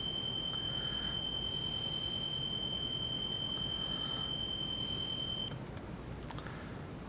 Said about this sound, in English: Stop beeping at me.